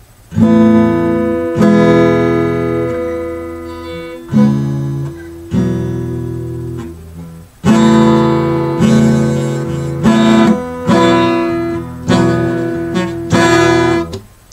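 An acoustic guitar strums through a chord progression, chords changing every second or two with several quick rhythmic strums, loud and close.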